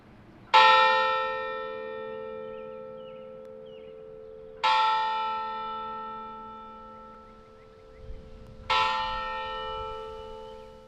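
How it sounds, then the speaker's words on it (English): A church bell rung in honor of Pope Francis's long life tolls three separate times, each strike ringing out slowly and fading before the next, with quiet ambience between. "the bell was rung 88 times in honor of the Pope's long life"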